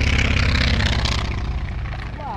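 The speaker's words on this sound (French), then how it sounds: "l'avion, comment il passe près" A low-flying propeller plane passes near the coast at Point Dume, a loud droning engine roar that fades slightly as it moves off.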